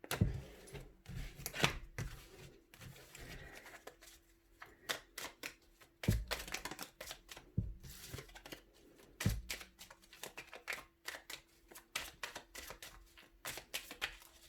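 Tarot cards being cut and handled, with many sharp clicks and soft shuffling slaps coming in irregular bursts throughout, close and fairly quiet, with no talking.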